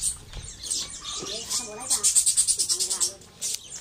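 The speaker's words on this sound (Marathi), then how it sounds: "हे पोपट आहेत बर्ड्स, लव बर्ड्स." Pet parrots and lovebirds in a garden area near Virar chirp in quick, bright repeated calls, with a rhythmic burst of chirps in the middle, heard alongside speech and background chatter.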